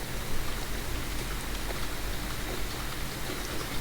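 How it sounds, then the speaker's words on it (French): Steady rain falls outdoors as a dense, even hiss of drops that never lets up, with no one speaking. "Il pleut. Oui, j'aime bien quand il pleut."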